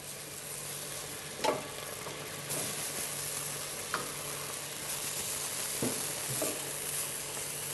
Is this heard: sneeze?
no